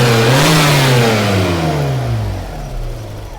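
A Volkswagen Corrado G60 engine revs loudly, its pitch sliding steadily down as it winds off, then sputters and stalls to a low rumble at the end, with no voices.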